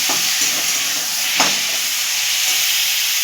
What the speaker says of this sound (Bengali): আলু আর শিমটা হালকা লাল করে ভেজে নেব।